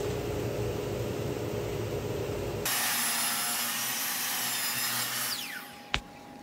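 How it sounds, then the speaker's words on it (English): A miter saw cuts white oak edge banding, a continuous close whining buzz that drops in pitch as the cut begins, then winds down, with a short sharp knock near the end. "when I use the saw to cut these pieces of white oak as edge banding"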